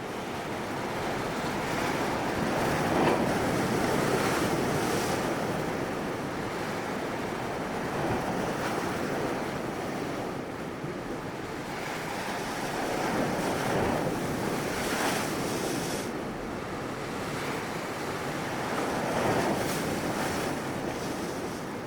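Ocean waves thump and spray against the shore, a continuous roaring surge with slow swells of louder crashes every few seconds, mixed with buffeting wind noise on the microphone and no voices.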